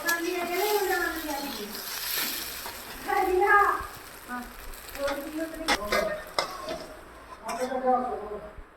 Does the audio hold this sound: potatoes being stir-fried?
yes